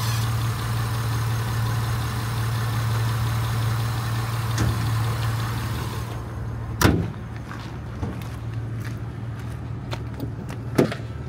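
A 2002 Honda Accord EX-L with a 3.0 liter VTEC six-cylinder idles steadily with a low, even drone, heard up close with the hood open, while a few sharp clicks and taps from nearby handling break in toward the end.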